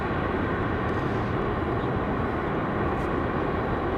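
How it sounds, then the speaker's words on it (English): A United Airbus A320-200 jet departs Raleigh-Durham International, a loud, continuous broadband roar that stays steady and close throughout, with no speech. "United 2163, an A320-200. Good sounding departure for that one."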